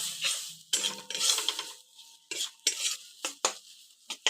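Pumpkin leaves are stirred and fried in a wok over low heat: repeated loud scrapes and clanks of a spatula against the metal pan come in irregular bursts over a faint sizzle, with no one talking.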